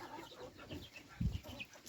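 Bantam chickens in a pen give soft, close clucks, with one fuller cluck standing out over a quiet farmyard background.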